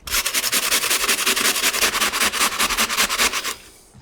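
Onions are rubbed against a kitchen grater in steady, rhythmic rasping strokes, about twenty close, loud scrapes in quick succession before stopping abruptly.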